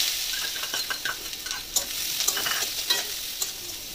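Chopped onions sizzling in hot mustard oil in a pan, a soft continuous crackle with scattered pops and light stirring clicks, close and fairly quiet with no voices.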